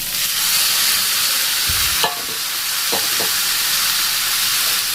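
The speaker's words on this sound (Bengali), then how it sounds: "এখন দিয়ে দেবো সেদ্ধ করে রাখা পেঁপে।" Boiled papaya tossed into hot oil in a frying pan makes a loud, steady sizzling hiss, with a few stirring knocks and scrapes of a spoon against the pan partway through.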